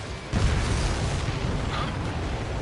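An enemy transport aircraft exploding in the video game Ace Combat, with a sudden boom followed by a sustained rumbling roar of the blast.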